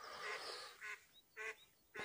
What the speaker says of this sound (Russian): Вон там в кустах какая-то бешеная утка плавает, не закрывая рта, крякает.